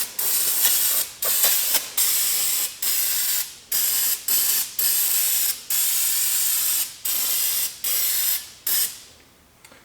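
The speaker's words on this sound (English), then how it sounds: "go ahead and spray the engine degreaser on and let it start doing its job" Engine degreaser is sprayed from a trigger bottle onto greasy car parts in a series of about a dozen sharp hissing bursts, each short spray separated by a brief pause, close and loud with no talk.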